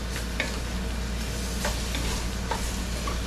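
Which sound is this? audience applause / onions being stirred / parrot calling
onions being stirred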